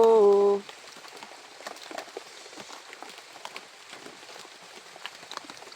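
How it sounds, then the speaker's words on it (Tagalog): Rain patters steadily with scattered drops tapping nearby. It follows a brief tonal electronic sound at the start, then stays soft and even. "Tulad dito ngayon tol, umuulan."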